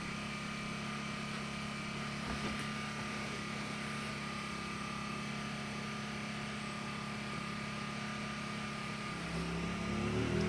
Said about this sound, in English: And there it goes, loading the generator.